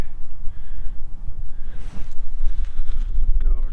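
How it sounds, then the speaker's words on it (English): Wind buffets the microphone in steady low rumbling gusts, loud and close, with a brief swell of blustery noise midway. "It's a little windy again here today."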